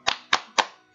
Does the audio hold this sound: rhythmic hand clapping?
yes